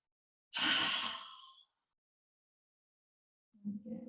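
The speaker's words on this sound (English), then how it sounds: "Another big deep breath in and out" A single deep, audible exhale sweeps out for about a second during a beginners' hip-focused yoga stretch, followed by a gap of silence and then the start of a soft breath or murmur, close and quiet.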